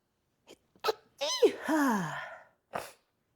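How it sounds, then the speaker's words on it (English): A close sneeze with a quick breath in beforehand, followed by a drawn-out vocal exhale and a short sniff at the end. "Oh, I gotta sneeze."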